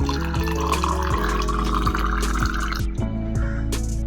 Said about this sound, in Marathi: आता पाणी टाकूया आपण.